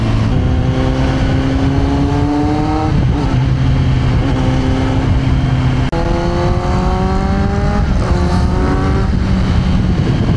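A Kawasaki Z900 big bike's engine drones loud and close while riding through road traffic, its pitch climbing in repeated rising sweeps as the rider shifts through the gears.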